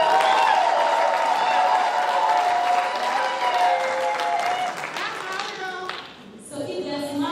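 Guests at a Rwandan church wedding applaud the couple, a sustained burst of clapping and crowd noise that fades toward the end, with voices mixed in throughout.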